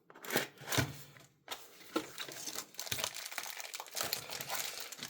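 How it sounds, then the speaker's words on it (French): Beyblade X Takara Tomy CX-01 Dran Brave packaging being unboxed, with plastic wrap crinkling and rustling close up in irregular bursts throughout, a few sharper crackles early on. "Du coup, c'est parti pour le déballage"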